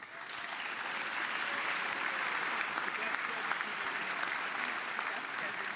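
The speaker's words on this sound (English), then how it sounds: "A big round of applause for our judges." Audience at a tech hackathon awards event applauds the judges: dense, steady clapping from a large crowd in a hall, even and moderately loud across the whole stretch.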